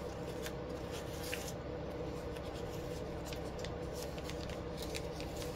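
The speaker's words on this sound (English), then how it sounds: "So I will cut these slightly, the odd bits longer" Scissors snipping ribbon strands to length for a poly bow, a run of crisp, close, repeated cuts with small pauses between, over steady rustling of the ribbon and no talking.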